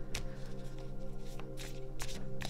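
Tarot cards are shuffled by hand at close range, with quick riffling bursts and soft taps repeating several times over a low steady background hum.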